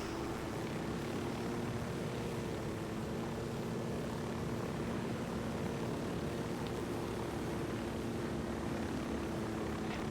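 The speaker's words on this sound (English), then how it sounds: "Plane flying over." A propeller airplane in the video game Ghost Recon Wildlands drones steadily overhead, a continuous low engine hum holding even throughout with no talk.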